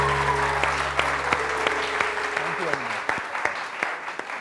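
Studio audience applause at a Pakistani TV talk show, steady clapping from the crowd running throughout over a sustained musical tone that fades midway, with scattered louder claps standing out near the end.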